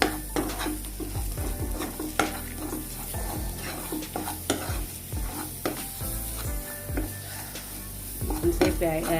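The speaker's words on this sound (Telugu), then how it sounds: "ఇవన్నీ ఒకసారి కలిసేలా ఫ్రై చేసుకున్నాము" Chole masala spices being stir-fried in a pan, with steady sizzling and repeated scraping strokes of a spoon against the metal, close and fairly loud, with no talking.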